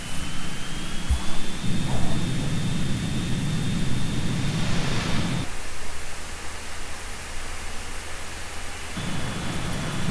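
Steady broadband roar of a jet fighter in flight from the PlayStation game Ace Combat 2, a constant engine rush with a sustained high whine, cutting briefly to a quieter hiss midway before the full roar returns.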